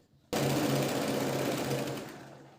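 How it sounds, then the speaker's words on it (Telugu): A sewing machine stitches a princess-cut blouse in a steady, continuous whirring run of about two seconds that starts abruptly, is close and fairly loud, and fades slightly at the end. "ఇంకొక వైపు కూడా సేమ్ యాజ్ స్టిచ్ మెజర్మెంట్ చూసుకుని స్టిచ్ చేసేసుకోవాలి"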